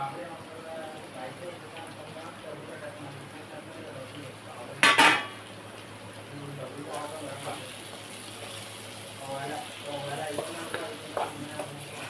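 Curry leaves drop into a hot pan of eggplant and ginger curry, with a low steady sizzle and utensil clinks, plus one sharp loud burst near the middle.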